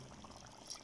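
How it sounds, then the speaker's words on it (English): Hot water is poured from a kettle into a pot noodle cup, a short, soft, continuous splashing pour heard close and quiet. "Let me pour the water now. It's hot water"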